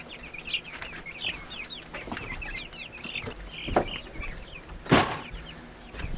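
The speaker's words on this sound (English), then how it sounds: "Look at these guinea keats." Lots of guinea fowl keets make thin, high peeping calls over and over, close and busy, with a sudden louder rustle near the end.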